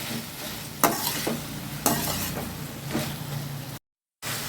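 A spoon stirs grated coconut into tomatoes for kara chutney in a hot pan, three scraping sweeps over a steady sizzle, close and clear, then a brief silence.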